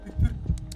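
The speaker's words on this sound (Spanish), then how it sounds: "si escuchamos los latidos significa que está cerca de nosotros" A heartbeat effect from a Roblox horror game sounds as two low, throbbing thumps close together, loud and close, signaling a nearby threat.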